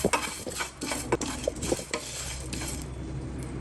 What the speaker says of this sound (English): Fry for 30 seconds.